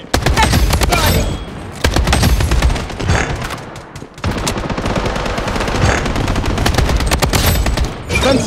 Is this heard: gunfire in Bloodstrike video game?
yes